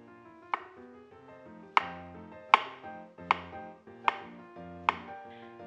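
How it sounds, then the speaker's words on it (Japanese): Knife slicing fresh mushrooms into thin 6–7 mm slices on a cutting board, six crisp separate chops at a steady pace, close and clear with no talk. "7ミリ幅の薄切りにします。"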